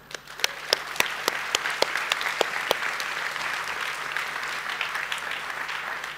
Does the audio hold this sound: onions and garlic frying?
no